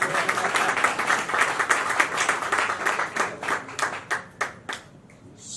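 A small audience at an interview event in Lagos claps together, a dense patter of hands that thins out into a few scattered claps before fading.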